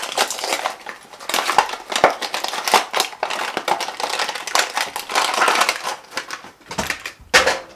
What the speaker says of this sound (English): I couldn't not just rip the box.